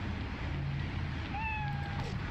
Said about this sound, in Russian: Какой милый котик ушастый.